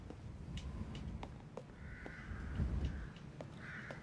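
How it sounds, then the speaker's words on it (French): Crows cawing in the Resident Evil Village VR video game, several harsh calls repeating at moderate distance over a steady outdoor wind bed, with no talking. "on entend des corbeaux"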